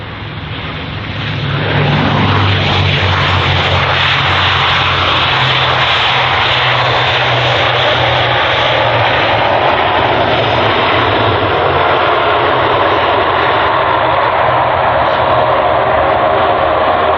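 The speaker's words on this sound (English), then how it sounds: "Now we've got a smaller turboprop aircraft." A smaller turboprop airliner at London Heathrow airport rolls along the runway, its engines a loud, steady, broad roar that swells within the first seconds and holds, with no voices.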